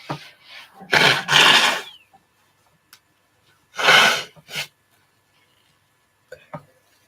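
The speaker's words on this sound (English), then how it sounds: "Obviously, I gotta blow my nose one more time." Close, forceful nose blowing in a few noisy bursts of breath, with short pauses and a faint click near the end.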